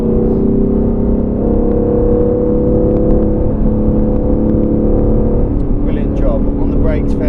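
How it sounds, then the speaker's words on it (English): Supercar accelerating on the Silverstone circuit, a steady loud engine drone and whir holding throughout, with a faint voice coaching over it near the end. "you can accelerate through the left-hander now"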